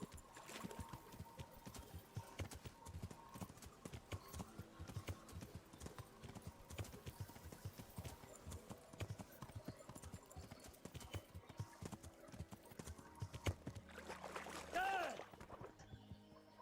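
Horse hooves clip-clop in a steady rhythm in the medieval video game Kingdom Come: Deliverance, with a faint whinny near the end and light talk over the game sound.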